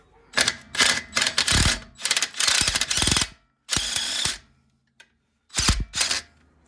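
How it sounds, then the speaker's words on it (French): A DeWalt impact wrench loosens a bolt on the front suspension of a 2.5 TD Jeep Cherokee XJ, firing in short, loud hammering bursts separated by brief pauses. "je prends la petite clé à choc"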